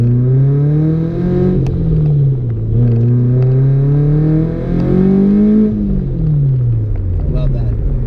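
Subaru BRZ engine, apparently supercharged, revving up and down in rising and falling sweeps with a loud, steady drone throughout; faint talk may sit underneath.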